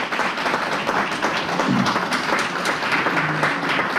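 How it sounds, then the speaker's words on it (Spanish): An audience at a book launch about electronic music in Chile applauds for Manuel, a steady round of close clapping of moderate loudness with a faint low voice mixed in. "Un aplauso para Manuel."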